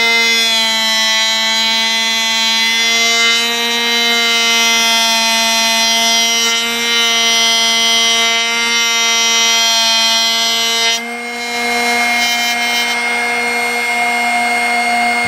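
A Drill Doctor X750 sharpener grinding a drill bit gives a loud, steady high-pitched motor whine, unbroken for the whole stretch, with a brief dip in tone near the end.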